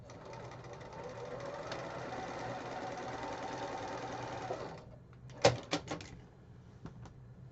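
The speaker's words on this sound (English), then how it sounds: "Go ahead and sew that." Sewing machine stitching quilt pieces, a fast steady whirring rhythm lasting about five seconds, then stopping, followed by a few sharp clicks and thuds nearby.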